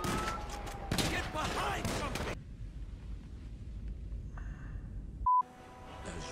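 Video game gunfire in GTA 5 comes as a dense, loud burst of overlapping shots for about two seconds, then quieter game ambience with a brief electronic beep near the end.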